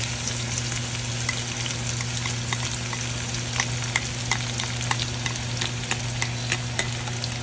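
Onion and garlic frying in a pan with steady sizzling and crackling pops, over a constant low hum from a running kitchen exhaust fan.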